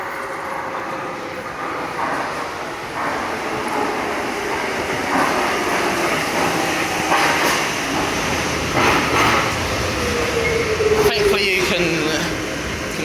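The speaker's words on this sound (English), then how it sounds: "This platform is for terminating DLR trains." A DLR train at Bank station platform gives a continuous rumble with rising and falling metallic squeals and clanks in an echoing underground space. People can be heard talking in the background.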